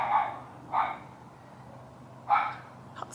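A dog gives three short, sharp barks, spaced apart and moderately close, with quiet pauses between them.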